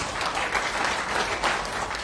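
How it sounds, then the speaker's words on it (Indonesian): A church congregation claps together for Jesus during a sermon, a dense, sustained burst of applause swelling slightly in the middle and lasting the whole stretch. "Yang percaya tepuk tangan bagi Yesus."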